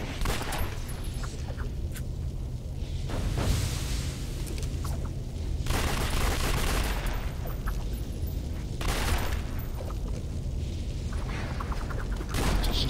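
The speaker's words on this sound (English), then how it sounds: "The guns in the air and yeah, shooting." Dual-pistol gunfire from the video game City of Heroes, with rapid volleys of shots and booming bursts repeating every few seconds over a steady loud background.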